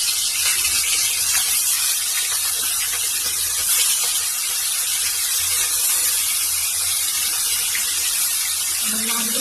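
Pieces of rohu fish fry in hot oil in a wok, making a dense, steady hiss that stays loud and even from start to finish.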